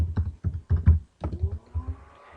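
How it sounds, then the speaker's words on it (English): Keys clatter on a computer keyboard in quick bursts of close, crisp clicks with brief pauses between groups, with no talk over it. "You're going to be typing in Super Nintendo ROMs"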